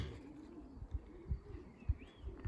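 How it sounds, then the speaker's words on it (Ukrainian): Low, soft pigeon coos repeat in a steady rhythm, close by, with no talking. "Ну, Звичайно, ми коло своїх голубів."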